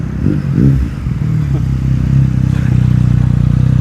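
A 2019 Honda CBR500R engine idles nearby, a steady low throbbing rumble with a slight rise in revs partway through and faint mechanical clatter, heard alone without talk.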